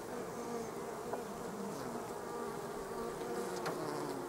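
Honeybees buzz in a queenless nucleus hive as a caged queen is released after two weeks. The humming drone is steady and close throughout, with no voices.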